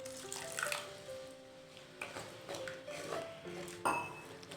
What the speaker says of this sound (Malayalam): ഇത് ഞാൻ ഏകദേശം ഒരു 1/2 ഗ്ലാസോളം വെള്ളം ഒഴിച്ചിട്ടുണ്ട്